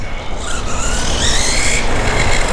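A 1/16 scale RC car with a brushless motor runs at full throttle, giving a steady high-pitched electric whine that rises over a rough rumbling of tires on the ground for a couple of seconds.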